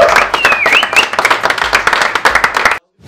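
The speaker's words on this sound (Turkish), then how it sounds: "Bir alkış." Audience applause on a Turkish entertainment show, dense clapping from many hands at close range, with a whistle rising over it, cutting off abruptly to silence near the end.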